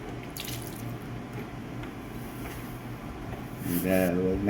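Water runs steadily out of the fluid section of a Graco line striper that is losing pressure, a constant splashing trickle with a voice briefly rising over it near the end.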